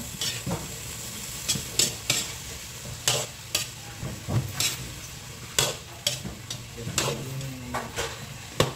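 Pakbet vegetables with bagoong being stirred in a frying pan, with repeated scraping strokes of a utensil against the pan in an irregular rhythm over a low, steady sizzle.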